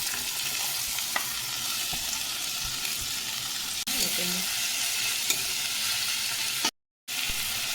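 Chopped vegetables frying in a pan with onion, garlic and ginger, a constant close sizzle with occasional stirring scrapes and a brief silent break near the end.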